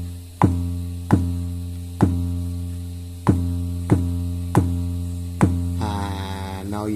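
Synthesized 808 bass built from a sample, thumping in seven evenly spaced hits with lingering decay tails, followed by a brief tonal flourish at the end, no talk.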